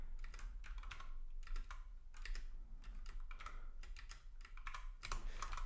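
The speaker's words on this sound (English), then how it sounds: "I'm pressing the wrong key." Steady typing on a computer keyboard, rapid irregular key clicks close up and continuous throughout, with no voices.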